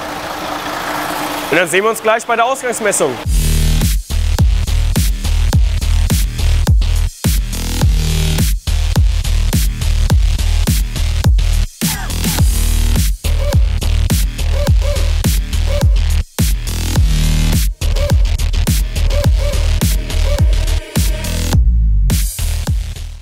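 A Mercedes-Benz Actros 2646 truck's OM501 diesel engine turns over and settles into a loud, steady, rumbling idle, with someone talking over it throughout.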